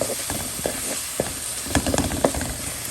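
Homemade ground cumin, coriander and chili spices fry in hot oil with a steady close sizzle, broken by scattered crackles and the scrape of stirring, with no voices.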